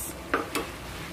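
Tomatoes go into a pan of pinakbet, with two quick scraping stirs and a soft sizzle in a brief, quiet moment.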